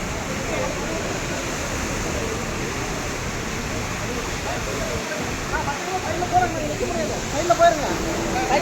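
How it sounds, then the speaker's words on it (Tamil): Water gushes hard and continuously from a single open sluice gate of Bhavanisagar Dam into the Lower Bhavani canal, a dense roaring rush close by that stays loud throughout. "தண்ணியோட ஃபோர்ஸ் பாருங்க எந்த அளவுக்கு இருக்குன்னு ஒன்று மட்டும் ஓப்பன் பண்ணியிருக்காங்க அதுவே இந்த அளவுக்கு அடிக்குது"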